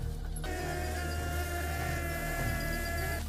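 Bees from a wild hive in a tree buzz steadily in a dense, continuous drone that swells at the start and holds close and loud without pause, with no voices.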